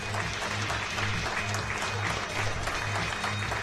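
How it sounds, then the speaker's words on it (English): Sustained applause fills an arena at a para powerlifting championship, a dense even clatter of many hands from the crowd with no break across the clip. "He gets a big round of applause."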